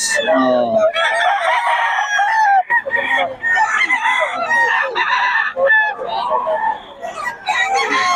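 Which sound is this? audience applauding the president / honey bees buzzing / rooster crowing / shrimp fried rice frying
rooster crowing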